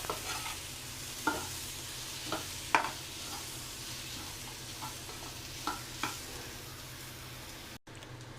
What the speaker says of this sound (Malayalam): നന്നായിട്ടൊന്ന് ഇളക്കി നന്നായിട്ട് നമുക്കൊന്ന് മിക്സ് ചെയ്ത് ഇങ്ങനെ ഉലത്തിയെടുക്കണം.